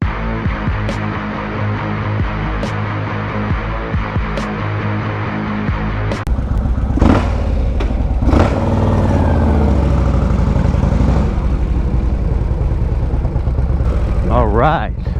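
A Yamaha Warrior 1700 motorcycle engine idles with a steady low throb, then revs louder as the bike sets off, and the running engine stays close and prominent throughout.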